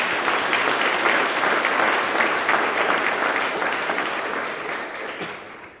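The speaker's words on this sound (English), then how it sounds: "You can applaud now." Sustained applause from an audience at a college staff awards ceremony fills the room, steady and dense throughout, easing slightly toward the end.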